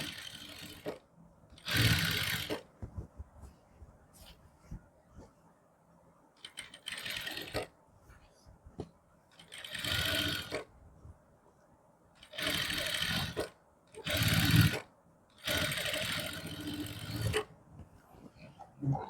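A sewing machine stitches a neckline lining onto fabric in repeated bursts of rapid mechanical whirring, each lasting one to two seconds, separated by quiet pauses with faint handling and clicks, close and clear.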